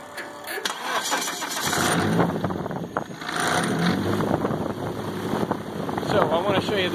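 A Honda R18 Civic 1.8-liter car engine driving an aircraft propeller through a gearbox cranks and catches, then settles into a steady rumbling run, loud and close, with a faint whirring whine riding over the motor.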